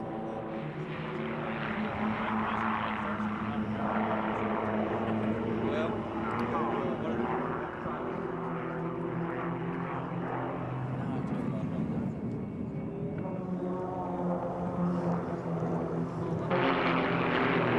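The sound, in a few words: four Extra 300 aerobatic planes flying at an air show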